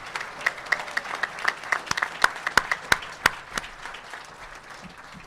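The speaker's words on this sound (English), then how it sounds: "let's give a round of applause to our 3 incoming new commissioners" Applause at a county board of commissioners special meeting welcomes three incoming commissioners: a room of people clapping steadily for several seconds, with a few sharp, louder claps standing out, before the clapping thins and fades.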